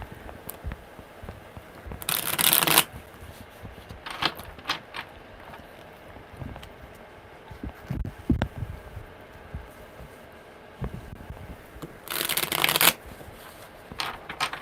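Tarot cards being shuffled by hand, with two loud bursts of riffling, one early and one near the end, separated by softer handling taps and rustles.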